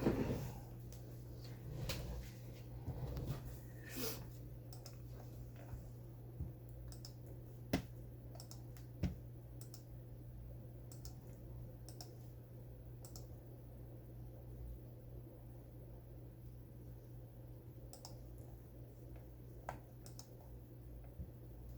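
Faint computer keyboard clicks and scattered taps sound sporadically over a quiet room hum, with a few sharper isolated clicks and no speech.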